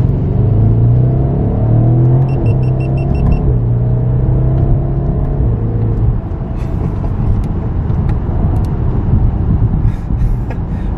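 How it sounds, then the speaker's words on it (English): A BMW 750i M Sport with an all-wheel-drive V8 of about 550 horsepower accelerates hard, its engine droning loud and close for the full stretch, with a few faint crackling exhaust pops near the end. "You can hear some pops."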